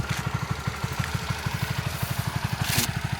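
A Honda RS 150 Fi motorcycle engine idles close by with a quick, even thumping pulse, joined near the end by a brief hissy burst over the running motor.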